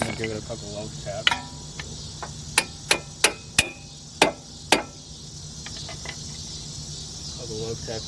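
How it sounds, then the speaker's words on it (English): Six sharp metallic taps from a light hammer in a loose, uneven series, fairly close, with a low steady hum and some faint chirping noise underneath. "we're just going to give it a couple low taps"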